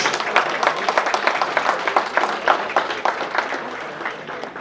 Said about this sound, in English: One more round of applause for Salisbury Country Foot Club for coming through